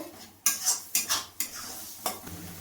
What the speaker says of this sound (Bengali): এবার মশলাটাকে আমি ভালোভাবে কষিয়ে নেব।